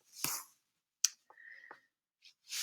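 A single crisp mouse click on an Apply button while editing a portrait in Pixlr, sharp and close, followed by faint soft desk and handling noises in an otherwise quiet room.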